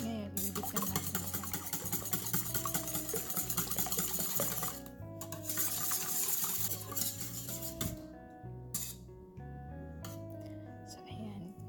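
Leche flan mixture beaten by hand in a bowl without a mixer, giving a quick, steady clinking and scraping rhythm close by, with a voice speaking over it.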